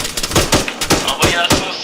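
Gunfire in the military video game Arma 3: a rapid series of sharp shots at irregular spacing, roughly six distinct reports in under two seconds, loud and close, with no talking over them.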